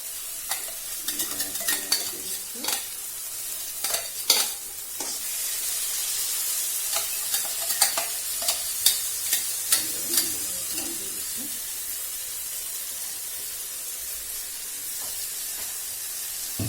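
Onions and tomatoes fry in a pan with turmeric and salt while being stirred for a paneer dish, making a steady sizzle with repeated scraping stirs throughout, close and moderately loud, with no talking.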